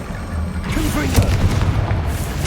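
A Confringo blasting spell from Hogwarts Legacy bursts with a loud, short boom in the middle, set against a steady background bed of game noise.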